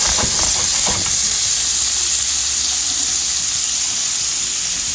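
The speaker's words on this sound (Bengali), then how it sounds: "আমি পরোটা বাজিয়ে নিচ্ছি ডিম বাজি হচ্ছে" Paratha and egg frying in a hot pan, a loud steady sizzling hiss with a few faint crackles near the start and no talking.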